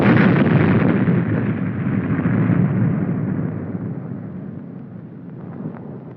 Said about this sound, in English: simulated atomic explosions add realism to the maneuver.